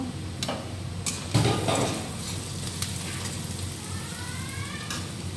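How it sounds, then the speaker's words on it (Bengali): Chopped carrots fry in a pan with a steady, moderate sizzle and a few faint clicks and taps from the cookware. "একে একে গাজর কুচি দিয়ে দেবো,"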